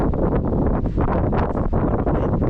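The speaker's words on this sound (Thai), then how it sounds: "ลมแห้งอีหลี" Dry wind blows across an open cassava field on a family farm, buffeting the microphone with a loud, steady rumbling roar that barely lets up for the whole stretch. No one speaks.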